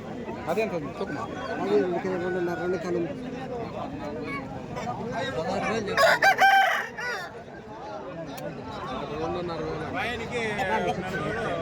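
Country chickens and roosters at a village poultry market in Chintamani, with repeated rooster crowing and clucking amid a busy crowd of people talking throughout.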